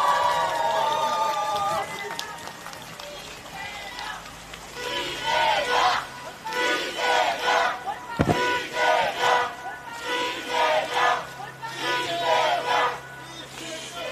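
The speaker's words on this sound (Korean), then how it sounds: "힘찬 환호해 주시기 바랍니다." A crowd at a Democratic Party political rally in Songpa, Seoul cheers loudly for the party leader, with surging bursts of shouting and noise that rise and fall over about fourteen seconds, and a sharp bang near the middle.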